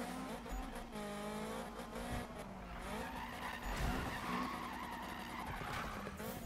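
A VW Golf GTI drifting in the racing game Need for Speed (2015), with sustained tire squeal and skidding over a steady engine drone, continuous and fairly quiet.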